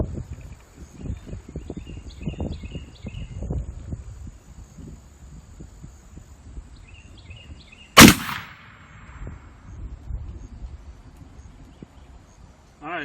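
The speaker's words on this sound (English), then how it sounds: "I'm going to take a shot at the tall target to the right in the back." A single loud, sharp report from a Traditions Deerhunter black powder rifle fired at a distant target outdoors in high winds, with a brief echoing tail amid wind noise and faint background chirps.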